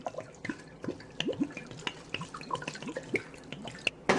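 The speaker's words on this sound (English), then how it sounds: "pour just enough water to cover the herbs" Water splashes and drips into a pot over herbs, with irregular bubbly plops and small gurgles, close by and moderately loud.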